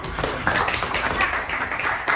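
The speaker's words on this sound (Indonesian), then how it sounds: "Tepuk tangan." A class claps hands together in a Christian lesson, a brisk burst of many hands tapping at once for about two seconds, close and fairly loud.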